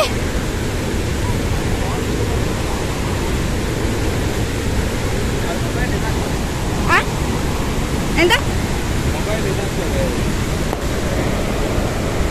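Benne Hole waterfall near Sirsi in Uttara Kannada roars as a steady, dense rush of falling water that fills the whole scene with a few faint clicks over it.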